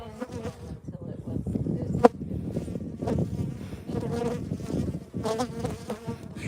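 Honeybees swarm and drone steadily around an opened hive on a cool Florida day in midwinter, a dense close-up buzz with individual bees zipping past the microphone.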